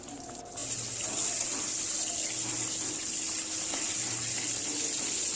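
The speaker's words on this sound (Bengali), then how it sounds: "দিয়ে নুন হলুদ লঙ্কা মাখিয়ে মাছগুলোকে আগে থেকে রেখে দিলাম, সেগুলোকে ভেজে নিচ্ছি।" Rui fish coated in salt, turmeric and chilli fries in mustard oil over a high gas flame, giving a steady, loud hissing sizzle throughout with faint clatter underneath.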